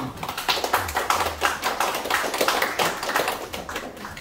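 Audience applause rises from a seated crowd, many hands clapping in a dense, uneven patter that swells and dips in waves while staying close and fairly loud throughout.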